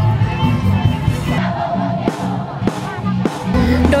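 Crowd cheering and chanting at a university cheerleading contest during a sports games event, a dense loud wall of massed voices with rhythmic shouted accents throughout.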